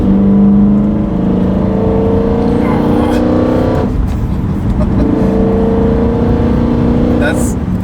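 A naturally aspirated V8 in a BMW E9X M3 hums as a steady, fairly loud drone close by. The pitch climbs as the revs rise, with intake noise in the sound.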